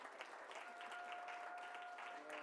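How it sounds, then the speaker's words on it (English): Faint, distant standing ovation for Moses at a Black History Month celebration, a steady spread of crowd clapping with a few voices beneath it. "You deserve every minute of the applause."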